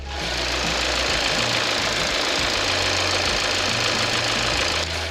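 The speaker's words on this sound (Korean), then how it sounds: "엔진룸 안에 있는 엔진 소리 한번 들어보도록 하겠습니다" A Kia All New K7 2.4 GDI engine idles close up in the engine bay with a steady, loud mechanical clatter and hum, even and unbroken from start to finish.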